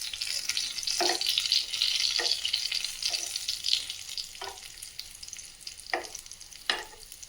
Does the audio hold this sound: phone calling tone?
no